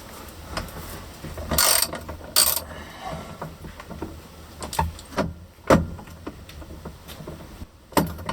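Ratchet wrench clicking at close range while a Datsun 260Z steering column is unbolted, with short bursts of ratcheting and scattered metallic knocks and handling noises in a quiet workshop.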